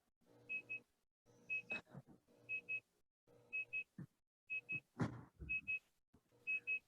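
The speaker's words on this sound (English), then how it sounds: "There's an alarm going off." An alarm beeps in short paired pulses that repeat at a steady rhythm, with occasional louder knocks and clatter between the beeps.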